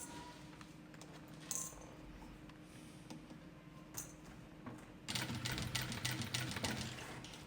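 A home sewing machine stitches the closure around a luxury cosmetic case, with short mechanical runs in the first half and a louder, steadier stitching burst from about five seconds on; no one speaks.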